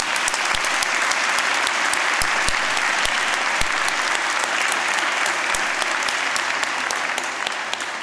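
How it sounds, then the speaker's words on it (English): Sustained, dense applause fills a City Education Group graduation ceremony hall, many hands clapping steadily and loudly for the full length without a break. "So I think we might give them a little bit of a round of applause"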